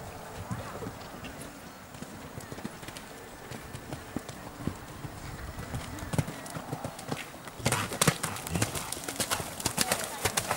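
Horse hooves clip-clop during a 100 cm show jumping round, a steady rhythmic beat of close hoof strikes that grows louder and busier toward the end, with an announcer speaking over it.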